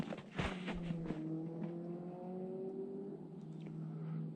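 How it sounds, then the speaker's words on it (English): A truck or snowmobile engine passing outdoors in winter, a droning motor with a steady rising tone that swells near the start and then fades into the distance. "I have no idea if that's a truck or a snowmobile."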